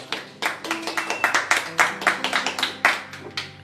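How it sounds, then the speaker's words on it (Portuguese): A church congregation claps in praise during a service, a fairly close burst of quick, uneven handclaps over a few seconds with faint voices and a sustained tone underneath. "Aplauda o nosso Senhor Jesus Cristo,"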